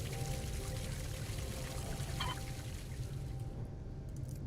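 Water pours out weakly at low pressure, a steady rushing trickle over a low hum that continues throughout, with a brief faint chirp partway through.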